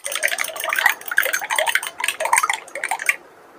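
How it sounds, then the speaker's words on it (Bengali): Egg being beaten for a chicken batter seasoned with pepper, parsley and salt, heard as quick, rapid clinking and scraping of a utensil against a bowl, continuous and close, with no talking. "ডিমটাকে ফেটিয়ে নিচ্ছি"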